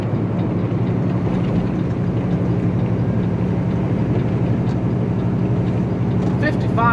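A vehicle engine drones steadily after a downshift while climbing a steep highway hill at about 56 mph, a constant low rumble with a steady hum that fills the whole stretch.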